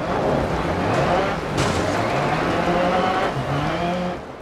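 Rally car engine from the Dirt Rally racing game, a continuous loud revving drone with rising and falling pitch shifts as gears change, steady throughout with no voices.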